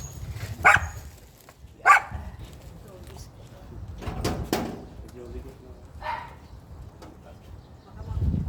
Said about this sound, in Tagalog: Dahil sa sobrang ingay ng aso, hindi masyadong narinig yung audio natin